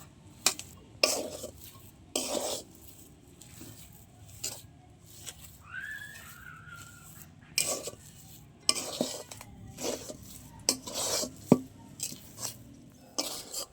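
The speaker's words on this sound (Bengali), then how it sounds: "এবার ভালো করে আমি নেড়ে এরকম একটা শক্ত ডো বানিয়ে নেব" Stiff palm-fruit dough for tal chushi pitha being stirred and worked in a pan, with intermittent scraping and clanking strokes of a utensil against the pan at an irregular pace, fairly close and without speech.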